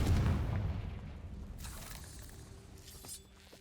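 A Confringo fire spell explodes in the Hogwarts Legacy video game, a loud booming burst at the start that crackles and fades into a rumbling tail with faint tonal game sounds underneath.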